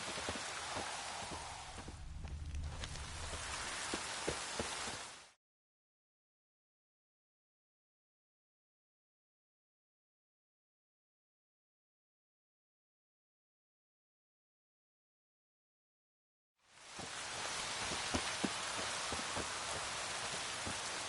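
Steady video game rain patters and hisses, then cuts to a long silence before the downpour resumes just as loudly.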